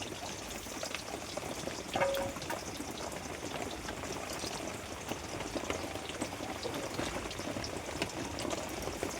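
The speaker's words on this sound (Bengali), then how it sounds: "মাছের ঝাল করার জন্য পেঁয়াজ দিয়ে দিয়েছি তেলের ওপরে" Onions frying in oil as the base for a fish curry: a steady, fine crackling sizzle with dense popping, close and moderately loud throughout.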